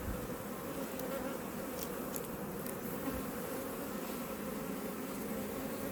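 Honeybees in a crowded hive that is ready to swarm give a dense, continuous buzzing hum, close and steady throughout with no talking.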